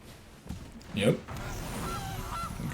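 A single short cartoonish goose honk sound effect plays in the Magic: The Gathering Arena digital card game, standing out briefly against quiet game ambience with faint talk around it.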